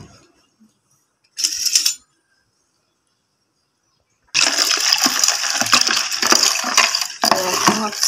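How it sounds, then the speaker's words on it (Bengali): Water is poured onto crushed palm sweet in a short splashing burst, then after a pause a longer, louder pour runs on with clinking and splattering to the end. "এটা এখন হচ্ছে একটু পানি দিয়ে দিব।"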